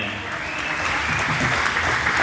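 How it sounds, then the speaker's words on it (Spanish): A crowd at a formal dance event applauds, a loud steady wash of clapping that builds slightly over a couple of seconds. "Y las despedimos con un aplauso fuerte"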